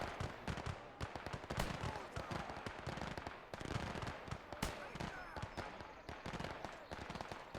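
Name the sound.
sniper rifle gunshot in the video game Gates of Hell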